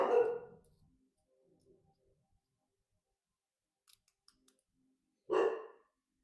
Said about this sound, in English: We're getting a package, and my dog's going to go bananas.